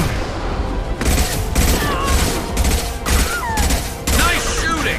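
Loud gunfire fills a Mass Effect battle: repeated heavy bursts of automatic fire, each about half a second long, with whooshing and ricochet-like whines in between.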